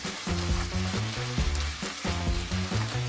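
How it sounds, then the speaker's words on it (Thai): Glass noodles stir-fried with beaten egg in a hot pan give a steady, continuous sizzle, partly masked by rhythmic background music. "แล้วคราวนี้ก็ใส่ไข่ ที่เรา เจียวไว้ก่อนหน้านี้ลงไปได้เลยครับ"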